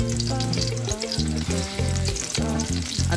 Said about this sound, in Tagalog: Medyo antayin natin ng konti na mag-brown yung ating bawang.